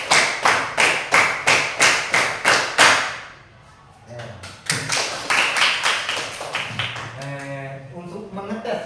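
A room full of people claps in unison in a brisk repeated pattern, about ten even claps, then a short pause with a voice, then another run of group claps overlapped by talking.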